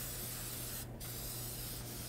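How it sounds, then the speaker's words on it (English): Release spray misted into a roughly 9 by 13 inch casserole dish: a steady, close, continuous hiss that runs the length of the clip, with a brief pause partway through. "I'm just going to take a little bit of release spray, and I'm going to spray in approximately a 9 by 13 casserole dish."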